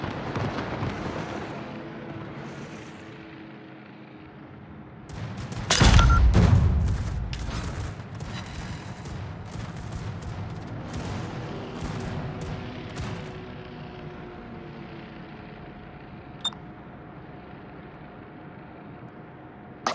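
Anti-aircraft guns in a military video game, a sharp loud blast followed by a long stretch of rapid cracking shots and rumbling bursts over a steady droning background, fading to scattered pops.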